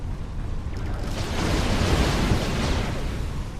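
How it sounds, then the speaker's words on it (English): Demolition charges detonate in Star Trek Online as a single rumbling blast that swells into a loud, broad roar and lingers for several seconds. "Charges in place. Now, get to a safe distance and detonate them."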